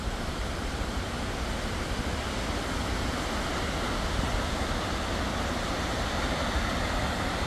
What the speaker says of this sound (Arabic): وهذا الشلال الثاني المهم بعد شلال لينك الرهيب.